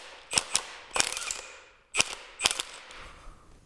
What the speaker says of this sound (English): let's see if we can just get it with the straight impact